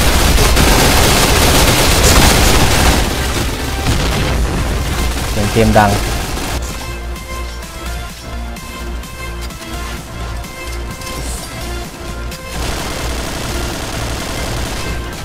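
Rapid AUG A3 rifle fire in the shooter game Point Blank, loud and dense bursts dominating the first six seconds, then lighter game sounds continue while someone talks throughout.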